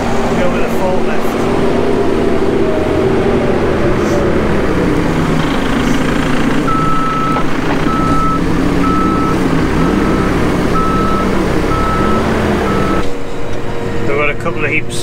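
A forklift runs close by with a steady engine drone while its reversing alarm beeps in an evenly spaced series partway through, the engine note shifting as it moves around a farmyard handling muck.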